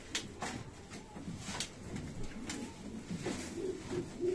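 Pigeons coo softly in a quiet setting, with a few low, faint calls over light background noise.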